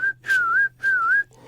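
A man's calling whistle, a father's signal summoning his children, imitated by a voice: three clear, sustained whistled notes, the second and third gliding down and back up, close and loud with short gaps between them.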